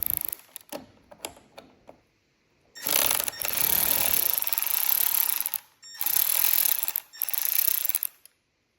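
Fasteners on a Ferrari F430 Spider convertible top being loosened with a power tool: a few short clicks, then long loud bursts of rapid buzzing and rattling separated by brief pauses, close by.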